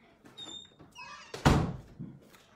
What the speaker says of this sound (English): Close the door, baby.